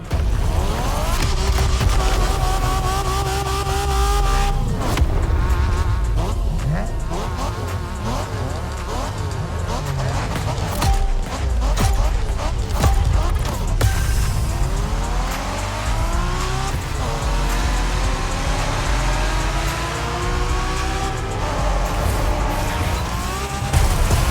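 Engines of street racing cars in The Crew Motorfest howl loudly and without a break, revving up and down through gear shifts, with tires squealing and skidding in places.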